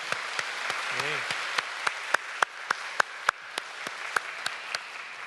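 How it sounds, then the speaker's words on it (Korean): A church congregation claps in praise during a Sunday afternoon worship service, a dense wash of applause running throughout with sharper individual claps standing out at a steady beat, and a brief voice rising near the start. "우리 손뼉치며 한 번 더 찬양합니다"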